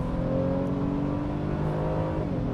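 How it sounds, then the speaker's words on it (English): A Honda Pilot engine drones loudly from inside the cabin, its pitch rising steadily as the vehicle accelerates, with no voices. "Kind of loud inside the cabin on the engine."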